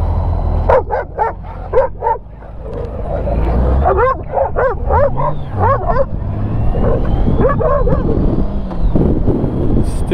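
Several dogs bark in short repeated bursts, loud and close, during a motorcycle tour stop near Monument Valley, Arizona, with yips and whimpers mixed in over steady wind rumble on the microphone.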